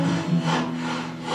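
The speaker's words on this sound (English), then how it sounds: "Because I'm too busy sawing." A hand saw cuts through wood in steady back-and-forth strokes, a continuous raspy rubbing sound that is loud and close, with no talking.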